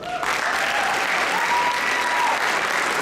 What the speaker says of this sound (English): would you give a nice round of applause for Jerry Borelli,